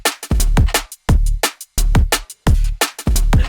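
A drum and bass beat loop plays on its own: punchy kick and sharp snare hits with hi-hats in a fast, repeating broken pattern, loud and close.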